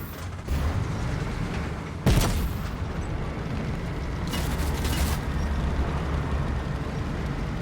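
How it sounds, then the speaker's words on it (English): A huge explosion in the Fortnite video game hits as a sharp broadband burst with a booming low end, set within steady game ambience and followed by a later rumbling swell. "Huge explosion."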